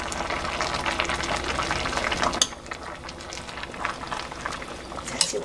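A pot of Korean pork bone stew (gamjatang) boils vigorously, with dense bubbling and gurgling throughout, close up and steady.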